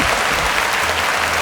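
Audience applause from a crowd at a talk, dense steady clapping filling the whole short stretch at close, loud level.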